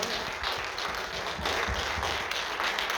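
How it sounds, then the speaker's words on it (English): Audience applause following a screening of short films, a steady patter of many hands clapping at moderate volume throughout, with no voices over it. "Give them a round of applause for the wonderful films."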